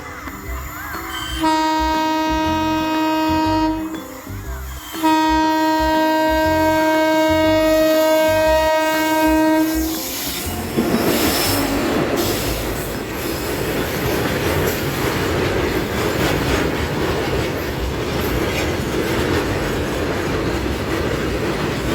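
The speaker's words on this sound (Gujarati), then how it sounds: "અવાજ આવી ગયો ટ્રેનનો ટ્રેન આવે જ છે" An Indian train horn sounds in long steady blasts, then the loud rumble and clatter of the train passing close by fills the rest.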